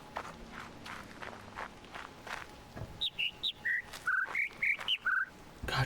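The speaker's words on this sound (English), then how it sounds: "God, shut up, birds." Birds in The Witness trill a quick run of bright, whistled chirps, rising and falling in pitch in a lively burst that follows a stretch of soft footsteps on the ground.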